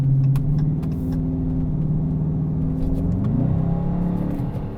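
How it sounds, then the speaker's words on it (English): A car passes on the road beside a parked 2022 Dodge Charger, a steady low engine rumble swelling and shifting pitch as it goes by, fairly close with no talking. "I'm gonna wait for this car to pass"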